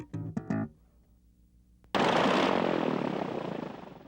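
A single or twin-engine propeller aircraft belonging to a Southeast Alaska airline roars in abruptly and loudly after a short burst of speech-like sounds, then holds a broad, steady engine drone that slowly eases.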